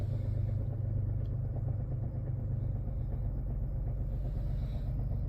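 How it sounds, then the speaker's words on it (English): A 2013 Ford Taurus SHO with the 3.5L EcoBoost engine idles after a cold start, giving a steady, continuous close-up rumble with a faint rhythmic chatter running through it. "that's the chatter I'm getting. Rhythmic in nature. Only audible on cold starts like today."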